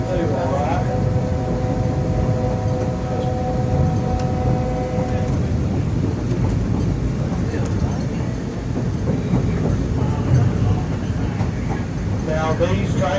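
Old passenger rail cars built between 1946 and 1955 rumble steadily along the track on a scenic railroad ride in Tennessee, a continuous loud rolling noise with some tonal hum, heard close throughout.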